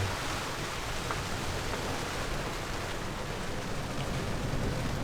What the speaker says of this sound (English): You hear the rain, the wind.